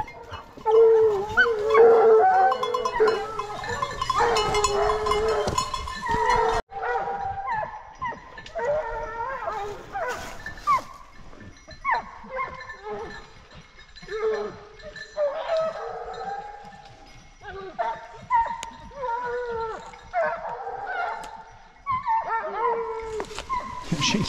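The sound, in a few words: hunting dogs barking and howling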